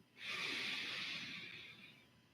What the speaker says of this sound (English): A long, slow, deep breath in.